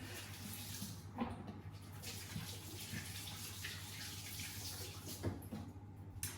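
Tap water runs steadily into a sink while hands are washed beneath it, a close, continuous splashing flow with a few small knocks and shifts in the stream.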